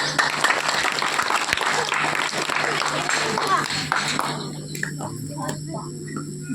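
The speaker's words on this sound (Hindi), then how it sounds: "ताली बजा लो।" Audience at a community yoga and pranayama session clapping together in a dense, steady burst of applause that fades out toward the end, with faint voices underneath.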